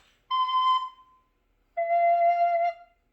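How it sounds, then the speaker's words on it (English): Two recorders of different lengths played one after the other: a clear, steady held tone, then a slightly lower sustained note after a short pause, with no talking. "You just blow your air through them, and the little whistle makes the sound."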